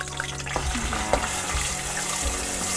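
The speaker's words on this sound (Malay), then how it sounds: "Dan kita kena tumis sampailah dia pecah minyak" A steady, close sizzle of onion, ginger and curry spices sautéing in hot oil for biryani, with occasional stirring scrapes and bubbling underneath.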